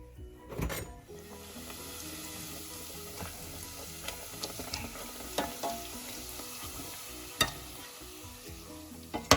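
Bhatura, a puffed fried bread served with chole, sizzles in hot oil while being turned to cook both sides, a steady fizzing bed broken by a few sharper crackles and scraping touches from a utensil, with no talking.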